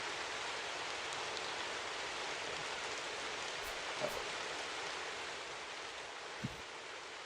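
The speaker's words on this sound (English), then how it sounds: "Yeah, the rain sounds are cool though." Steady rain ambience in the Talespire tabletop game, an even wash of falling rain with a couple of faint soft knocks and no talking.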